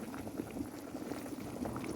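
Water bubbling at a steady rolling boil in a pot of corn, a continuous dense gurgle close by with no voices.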